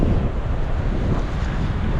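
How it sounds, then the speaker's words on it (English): Steady, loud wind at a beach headland buffeting the microphone with a constant low roar and no pauses, nobody speaking. "It's a little windy out here."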